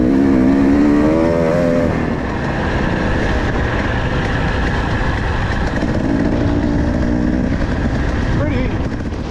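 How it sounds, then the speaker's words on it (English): A small two-stroke motorcycle rides through the Negev Desert, its engine a steady, loud drone throughout with a slight rise in pitch near the start, mixed with constant wind rush. "a whole mix of bikes from 790 down to my little two-stroke"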